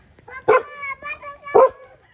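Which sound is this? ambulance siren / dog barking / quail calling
dog barking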